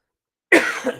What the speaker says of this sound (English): Sorry, I know I keep coughing.